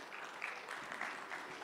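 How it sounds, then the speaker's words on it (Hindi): Quiet applause from an audience at an MSME summit in Madhya Pradesh, welcoming Chief Minister Mohan Yadav, a steady wash of many hands clapping with no voices over it. "फिर से जोरदार तालियां बजाइए।"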